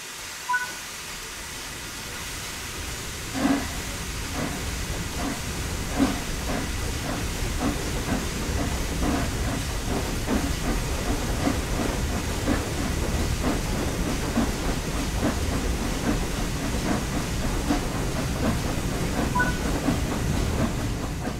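The Flying Scotsman steam locomotive starts off slowly in Train Sim World 4, a steady steam hiss with rhythmic chuffs and faint clanks that gradually quicken, loud and close with no talking.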